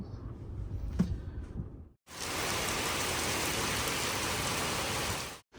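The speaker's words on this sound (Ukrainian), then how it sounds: "Блін, оце дощ пішов, це капець." Heavy rain in Kyiv pours down in a dense, steady hiss after a brief quieter moment, close and loud throughout.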